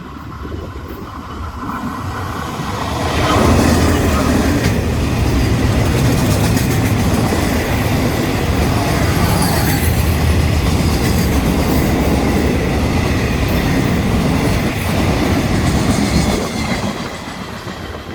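A Thai freight train, number 556, hauled by GEA 4546 diesel locomotive passes close by with a loud, sustained rumble of engine and rolling wagons, clattering wheels throughout before easing slightly at the end.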